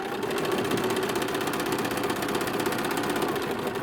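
A sewing machine chain piecing patchwork quilt blocks runs in a steady, continuous mechanical whir with a fast even stitching rhythm, close and fairly loud, with no talk over it.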